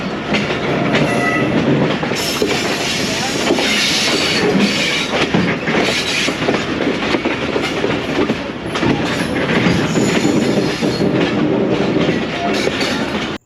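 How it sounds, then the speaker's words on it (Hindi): A train pulls into Lala Musa railway station near the GT Road, steady loud rumble and clatter of wagons with clickety-clack of wheels, faint horn and squealing wheels throughout, heard close from on board. "लाला मूसा रेलवे स्टेशन अब हमारी ट्रेन पहुंच गई है"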